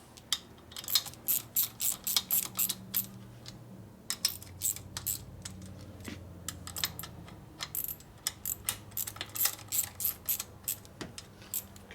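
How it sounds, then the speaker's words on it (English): Ratcheting and metallic clicks from 1/4 inch bolts being tightened on a 1992 Harley-Davidson 80ci Evo motor during a rebuild, in bursts of quick close ratchet strokes separated by short pauses. "I'm going to tighten up the 1/4 inch ones."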